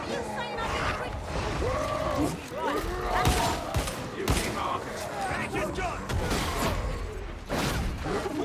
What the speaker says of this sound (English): So if we just stand here, our servo skull will actually just shoot enemies